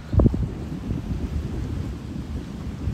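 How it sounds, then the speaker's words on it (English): Wind blows steadily by the sea at night near a pier in Esperance, Australia, a continuous low rumbling buffet with a heavier gust at the start. "As you can see, it's very windy,"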